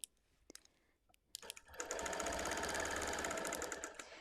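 After a few soft clicks and a pause, a sewing machine starts up and runs in a fast, steady, rattling hum while quilting a red and white quilt along a ruler, close and alone.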